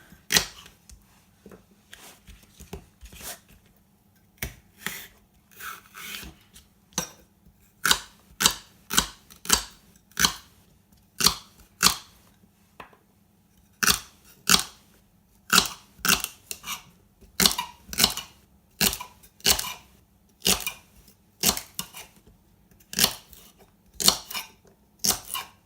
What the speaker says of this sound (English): So that's the carrots and celery all chopped up